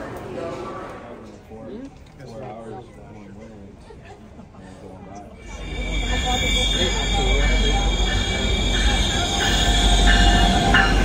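A Toronto commuter train rumbles in a busy station on a crowded Saturday night, with crowd chatter throughout. The train's loud, steady roar and whine build up halfway through and then dominate.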